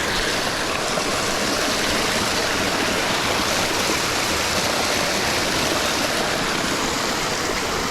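Cold, fresh stream water rushing steadily and loudly up close, a constant broadband roar of flowing current with no voices, at a bridge on a summer bikepacking route.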